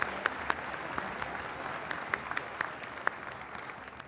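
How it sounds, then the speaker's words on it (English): An audience at a city State of the City address applauds award winners, continuous clapping with a few crisp nearby claps popping out, tapering slightly toward the end. "Let's congratulate our winners with a round of applause."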